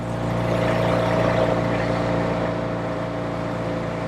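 A 1964 Triumph Thunderbird 650 motorcycle idles steadily nearby, its engine giving an even, continuous hum at constant loudness with no revving.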